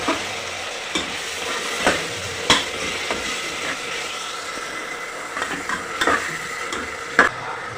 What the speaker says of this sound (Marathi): आपण टोमॅटो परतून घेऊया